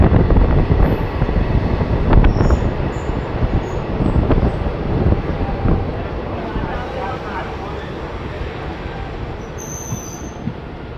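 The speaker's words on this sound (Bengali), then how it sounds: "ডেমু প্যাসেঞ্জার ধীরে ধীরে স্পিড নিচ্ছে" A DEMU passenger train rolls along a quiet hilly Jharkhand railway line, heard from inside with a loud steady rumble of wheels, rattling carriage noise and brief metallic squeals as it gathers speed.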